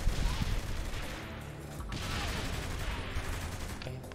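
Machine gun fire in Saints Row the Third comes as loud rapid bursts of gunshots over heavy rumbling game noise, with a short lull before the firing resumes.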